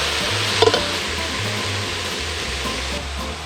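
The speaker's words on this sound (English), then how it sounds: "Stir it up." Corn, celery, mushrooms and plant-based ground meat sizzle steadily in a hot pan while being stirred, a continuous close frying hiss with a brief scrape of the utensil near the start.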